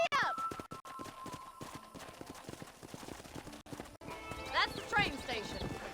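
Horse hooves clip-clop in the Western video game Red Dead Redemption, running under speech and game music, with a brief whinny-like sweep near the end.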